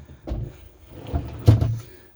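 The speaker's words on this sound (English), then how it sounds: "a deep drawer" A deep drawer in a Rapido C55 motorhome kitchen slides open with a soft thump, a low rumble and a final knock, all close and fairly quiet.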